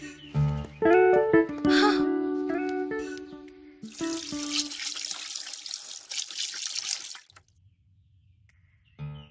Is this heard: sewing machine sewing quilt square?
no